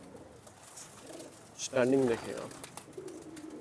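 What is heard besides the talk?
dub pigeons cooing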